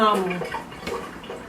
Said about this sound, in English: Just pass a little water on it like that.